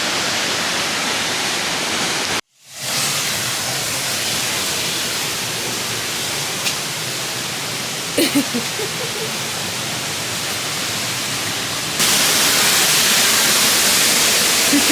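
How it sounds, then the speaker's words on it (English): A waterfall on a trail in Oregon roars as a continuous, loud broadband rush of falling water, unbroken apart from a momentary dropout, growing louder near the end. "This is the first waterfall."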